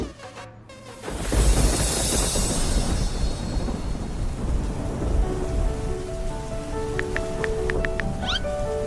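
Heavy rain pours steadily onto surfaces after a sudden onset, with deep thunder rumbling underneath and faint higher insect-like chirps near the end; no talking.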